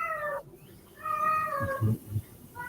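A pet cat, around two years old, gives two drawn-out meows, close and clear, with a low thump and some background rustle between the calls and a third meow starting at the end.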